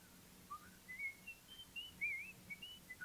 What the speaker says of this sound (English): please stop whistling for a few minutes.